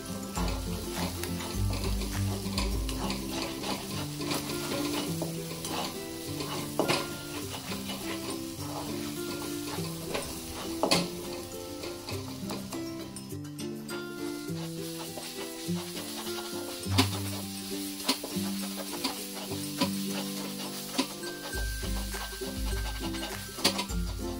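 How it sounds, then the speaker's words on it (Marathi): Egg bhurji being sautéed in a pan for egg rice, with a constant sizzle broken by repeated scraping and stirring strokes of a spatula and occasional metallic clinks, heard close with no talk. "आणि हे छान असं आता आपल्याला परतून घ्यायचं."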